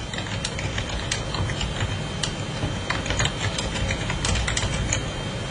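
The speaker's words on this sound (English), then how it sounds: "just start typing out." Typing on a computer keyboard, a quick uneven run of light clicking keystrokes heard close against a soft room hum, no voices.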